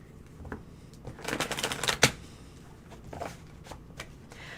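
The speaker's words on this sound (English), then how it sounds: "Go ahead and shuffle." Tarot cards are shuffled in quick, soft riffling bursts with a snap near the middle, followed by lighter intermittent flicks, close and fairly quiet.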